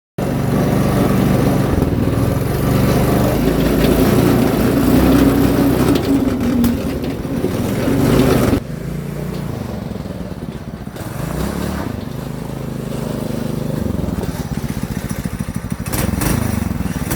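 A Predator 212 go-kart engine with a muffler runs continuously at a steady idle, loud and close, with slight shifts in pitch and no speech.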